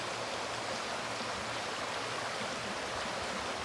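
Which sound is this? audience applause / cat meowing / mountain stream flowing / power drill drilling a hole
mountain stream flowing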